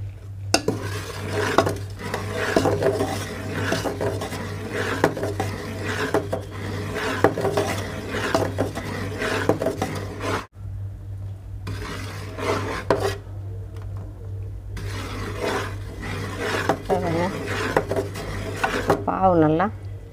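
Athirasam flour is stirred into hot jaggery syrup in a pot, giving repeated rasping, scraping strokes with short pauses between bursts and a little speech.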